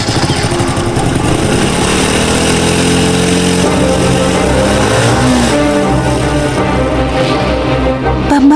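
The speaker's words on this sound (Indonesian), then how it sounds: "Bambang melaju dengan motor kebanggaannya di atas jalan raya" Motorcycle engine droning loud and close as the rider pulls away and accelerates along a road, a steady buzzing roar with rising pitch, no voices.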